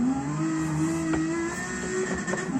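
A race car accelerating hard on a track, its engine close and loud with a steady rising drone and brief gear-change breaks throughout.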